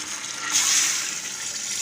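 Half a liter of water poured from a large soup bowl in a kitchen, a short steady splashing gush that swells briefly and then runs on evenly.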